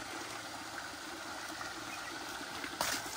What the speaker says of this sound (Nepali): पानी, ऊ बाइकबाट खनाइदेऊ अब।